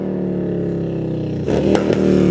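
A loud motorcycle passes by, its engine drone building into a rough, revving roar that swells near the end of the clip over steady low rumble.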